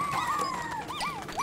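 A dog in the Pikmin 4 video game whimpers with a long falling whine followed by several quick rising-and-falling yelps, close and clear with no voices.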